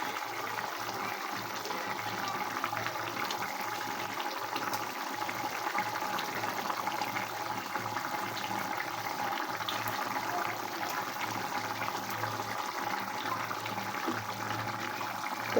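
A pot of silver carp fish curry broth with vegetables boils steadily on the stove, giving a continuous soft bubbling and simmering hiss at an even level throughout, with no voices.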